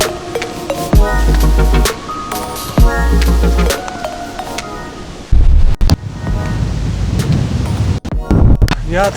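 Strong autumn wind on a hillside forest path in the Beskid Niski mountains buffets the microphone in heavy roaring gusts, cutting in and out in loud bursts with a constant rushing noise underneath.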